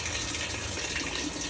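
Water flows steadily into a Whirlpool washing machine on a normal cold wash, a continuous broadband hiss and gush that holds at an even level throughout, close and alone.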